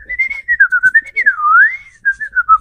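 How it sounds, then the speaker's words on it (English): A person whistles a lively melody up close. The clear tone slides and warbles through short phrases, with one long swooping note in the middle, and no talk. "I'm a pretty good whistler"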